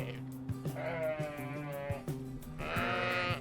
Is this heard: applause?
no